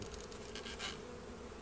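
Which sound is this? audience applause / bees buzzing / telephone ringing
bees buzzing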